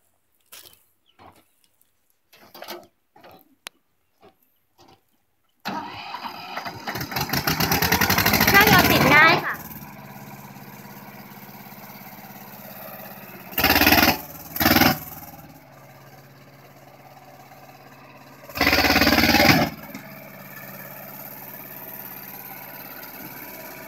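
A Mitsubishi 25 hp two-wheel-drive diesel ride-on tractor, used and in good condition, starts up after a few quiet clicks, runs with a loud, steady rumble, then surges in several short bursts as it is revved.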